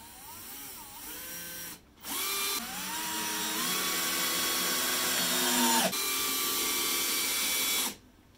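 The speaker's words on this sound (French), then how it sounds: "La petite vis de 4 dans le sapin." A Bosch Pro GSR 12V-15 drill driver in first gear drives a small 4 mm screw into fir, with a brief whine, a pause, then a longer rising motor whir that labours and changes pitch before stopping, close and alone.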